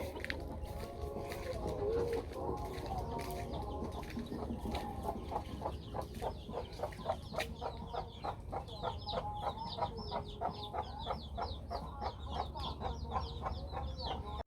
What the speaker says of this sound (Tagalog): Daghanang manok dire oy.